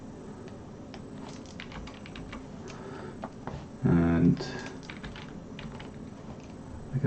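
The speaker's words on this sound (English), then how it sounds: "I'm just using the arrow keys to go back and forth between the two frames" Arrow keys on a computer keyboard clicking while stepping between two frames of a sprite, with scattered light taps and one brief louder burst in the middle, and a voice speaking over it.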